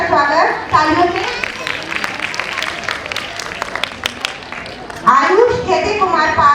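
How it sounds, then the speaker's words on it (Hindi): Applause from an audience at an international school's annual function welcomes a student being honored for class results, a dense patter of clapping under a loud announcer's voice that speaks at the start and again near the end. "जोरदार बच्चे का स्वागत तालियों से"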